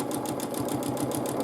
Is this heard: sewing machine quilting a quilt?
yes